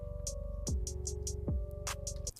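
Edited drum beat playing back after a piece was deleted and the track slid over: thumping kick drums with crisp hi-hat ticks over a sustained tone, steady rhythm, no talking.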